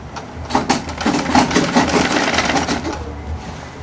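Sewing machine running in quick rhythmic bursts as it stitches buba and sokoto fabric, a close mechanical whirring rattle that rises and eases over a few seconds, with no voices.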